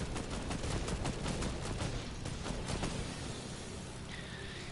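Gunshots fired from a plane in a video game: a dense, loud burst of rapid automatic fire over a roaring engine drone, thinning out toward the end.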